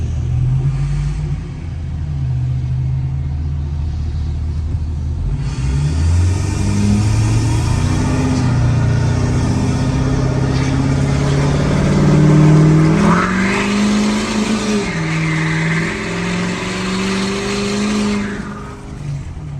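A SEMA show truck with a 6.4 engine drives along, its deep, loud exhaust rumbling steadily and rising in pitch as it revs and accelerates through several surges, close and with no talking.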